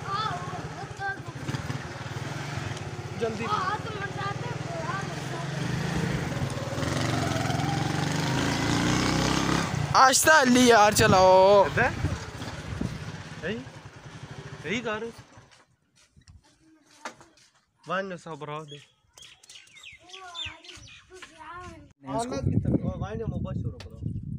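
A motorcycle engine runs at a steady idle for about ten seconds, fairly close and continuous. It then drops away and leaves someone talking, with intermittent engine noise and other voices after.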